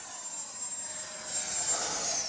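A H-King Flycat 70mm 6S electric ducted fan RC jet at full throttle in strong wind, a loud, steady high-pitched whine and rushing roar that swells slightly as it passes.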